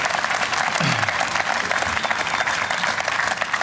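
An audience at a Veterans Day ceremony applauds a state senator with continuous, full clapping throughout and a brief low voice murmuring underneath.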